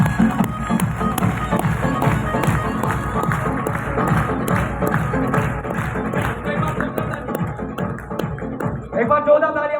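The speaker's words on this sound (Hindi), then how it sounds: "एक बार जोरदार ताली हमारे दोनों न्यू स्टार सभा लीडर्स के लिए, जोरदार ताली दोस्तों।" An audience claps for two new leaders at an indoor event, a dense, continuous patter of many hands close by with voices mixed in, thinning out just before the end.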